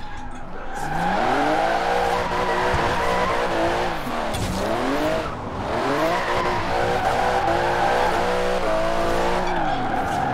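A Chrysler in the video game Forza Horizon 4, kicked off the clutch on narrow rear tyres: long, loud tyre squeal and skidding over a rising and falling engine whine, continuous and close for the whole stretch.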